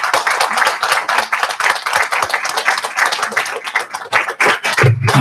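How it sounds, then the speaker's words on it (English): A room at a school board meeting breaks into sustained, dense clapping for members of law enforcement, loud and close, continuing steadily throughout with a slight swell near the end. "could we give our members of law enforcement a round of applause"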